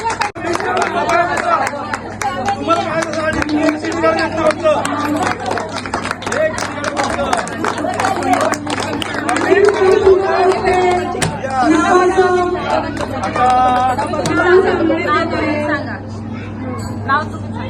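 Audience applause at a women's garba dance event during a Maruai Devi jagar in Alibag, steady clapping running throughout amid crowd chatter and music.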